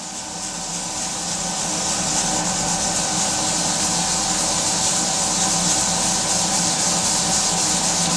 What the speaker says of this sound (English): Stick a little bit of the acid cleaner on the pad and then just gently rub, and it'll take about 20 seconds of rubbing.